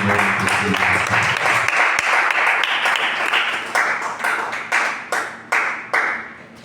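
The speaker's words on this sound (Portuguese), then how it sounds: "é uma salva de palmas para Jesus" A church congregation applauds in a steady, dense wash of clapping that thins into a few separate, sharper claps near the end.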